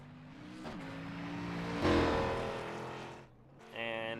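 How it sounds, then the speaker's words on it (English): Race cars in the iRacing sim pull onto the track at Iowa Speedway for a NASCAR Xfinity Series event, engines droning steadily and swelling into a louder revving surge midway, then dropping briefly before rising again. "And cars pulling on to the racetrack from Iowa"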